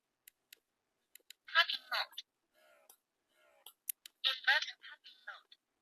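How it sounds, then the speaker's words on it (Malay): A breast pump's small speaker gives short recorded voice announcements after a button press, quiet and close, with faint clicks of the buttons between. "Bila kita tukar mode, dia akan keluar suara mode apa yang kita guna pada masa tu."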